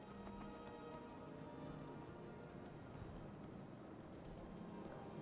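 Horse hooves clip-clop steadily across rocky ground in a video game, a continuous rhythmic patter under game ambience and soft musical tones, with no talking.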